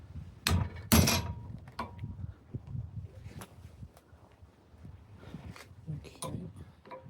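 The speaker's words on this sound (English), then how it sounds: "use a punch and a mallet and see if I can knock it" Several sharp metallic strikes of a mallet on a punch, knocking at an axe during restoration, two loud ones close together then lighter taps, with a person speaking between blows.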